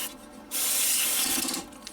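Aerosol cleaner sprayed onto a part of an RCA 12-inch black-and-white portable TV during repair, one sustained close hiss of about a second and a quarter after a soft rubbing lead-in, then tapering off.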